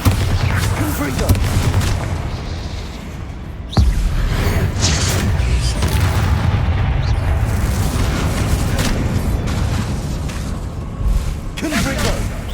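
Bombarda and Confringo spell explosions in the video game Hogwarts Legacy, loud booming blasts and crackling bursts filling the scene continuously, with a sharp impact near four seconds and voices calling out over the battle.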